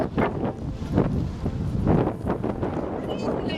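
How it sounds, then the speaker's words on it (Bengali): Gusty wind at Little Bay Park on a cloudy afternoon buffets the microphone in loud, uneven rumbling bursts over a few seconds. "বাতাস"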